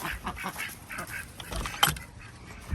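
Ducks quack repeatedly inside a duck coop, a series of nasal calls at close range with a louder burst near the end, no talking.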